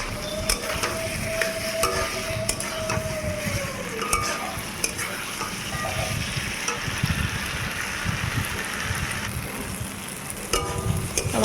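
A potato and soybean curry is stirred and sautéed in a pan. A spoon scrapes continuously and rhythmically over a steady frying sizzle, with faint clinks now and then, all close and with no talking.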